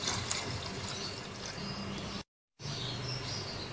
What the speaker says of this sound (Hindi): 3 कप इसमें पानी के शामिल कर देने हैं।